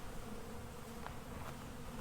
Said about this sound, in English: And there's a lot of confused bees here on the box